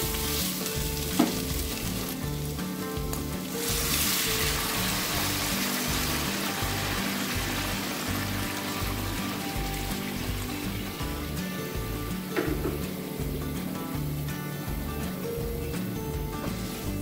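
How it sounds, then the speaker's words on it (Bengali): Continuous loud frying sizzle from a pan of spice masala for a jute-leaf curry, with stirring scrapes and a brief watery splash as hot water goes in, close and steady throughout. "মশলা কষা হয়ে গেছে, এবার এতে গরম জল দিয়ে দেব"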